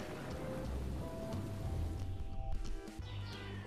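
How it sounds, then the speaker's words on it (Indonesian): Steady rain falls in a rainy-season downpour, a dense even hiss of drops with faint low rumbles underneath and no voices. "misalnya saat musim hujan, hujan turun berhari-hari."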